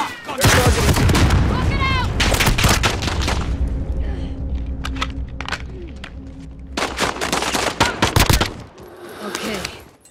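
Rapid gunfire and heavy booms from a video game battle, with a rocket launcher firing amid loud bursts of automatic fire that come in several dense clusters, separated by quieter gaps, with voices calling out between them.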